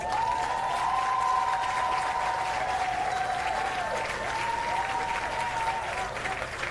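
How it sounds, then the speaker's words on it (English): Sustained audience applause at a national honours and awards ceremony for a posthumous medal, steady and dense throughout, with a faint tonal voice or announcer line weaving under the clapping. "And a rousing round of applause for Lorenzo Dowse"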